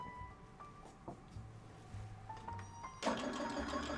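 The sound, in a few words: embroidery machine sewing placement stitch on sequin hoodie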